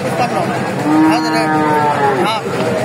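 Loud, drawn-out cattle moos, one after another, at a cattle market in Bogura, Bangladesh, with a busy crowd murmuring in the background.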